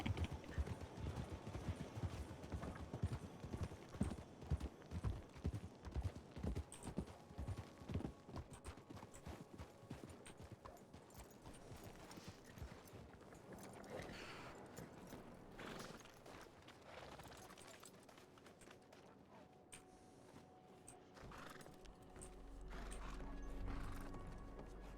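Horse hooves clip-clop in the RedM roleplay game, a quick rhythmic series of hoof strikes for the first several seconds, then fading into quieter scattered game sounds and a low rumble toward the end.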